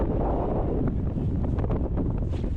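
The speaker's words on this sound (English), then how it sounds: "We're outside right now. It's super windy." Strong wind gusts batter the microphone outdoors at Black Sand Beach in Vik, Iceland, a steady loud roaring rumble with no voices.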